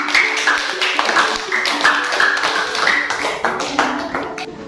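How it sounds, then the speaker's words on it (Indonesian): Students in a classroom clap their hands together, a dense, steady patter of many hands close by that continues evenly throughout. "Mari beri tepuk tangan untuk pembelajaran hari ini."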